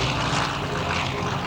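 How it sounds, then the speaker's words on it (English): A CAF FG-1D Corsair propeller fighter flies at the 2012 Tuscaloosa Regional Air Show, its piston engine giving a loud, continuous droning roar with no break. "From your right, Chris Avery and the Falcon turn"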